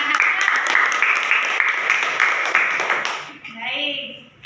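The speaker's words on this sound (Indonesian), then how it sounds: "kita berikan aplaus" A small counseling group claps together for a member's opinion, a brief burst of close, rapid hand claps that tapers off as a voice begins speaking.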